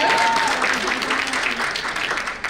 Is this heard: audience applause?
yes